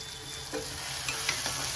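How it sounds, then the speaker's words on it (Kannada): A poha tempering (oggarane) sizzles in hot oil in a pan with a dense, continuous hiss, heard close, with a few light crackles and pops. "ಇದು ಒಗ್ಗರಣೆ ರೆಡಿ ಆಗೈತಿ."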